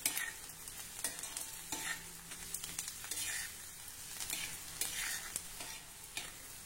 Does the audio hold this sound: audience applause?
no